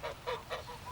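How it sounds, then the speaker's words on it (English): Geese in a backyard honk three or four times in a short, rapid burst, moderately near and fairly soft, with no talking. "I looked at the geese, which was hissing and huddling in the corner of the yard"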